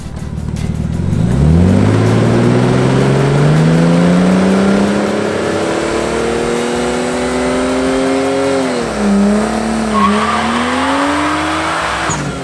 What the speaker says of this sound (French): C'est un micro-burn statique.